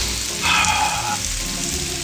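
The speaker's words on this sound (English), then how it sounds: "Is it just me, or is the sound of food sizzling and cooking amazing?" One large chopped onion sautéing in a pan, a loud, steady close-up sizzle and crackle that continues throughout with no talking.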